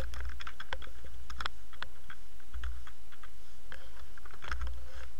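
Steady typing on a computer keyboard while entering an HTML BR tag, a close run of light irregular key clicks with brief pauses, no voices.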